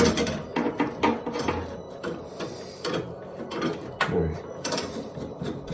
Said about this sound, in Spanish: Ahora terminaríamos de aflojar el actuador